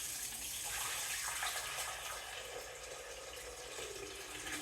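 Water pours from a jug into a 37-gallon planted aquarium as a continuous soft gushing and splashing, steady and fairly faint, with no talking.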